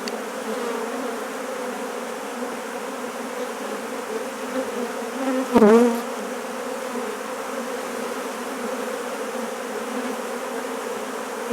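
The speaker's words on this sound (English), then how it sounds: "Quite a fair number of bees." Honeybees buzzing steadily around an open hive box during queen finding and marking, a continuous close drone that holds level throughout, with a brief louder swell of buzzing partway through.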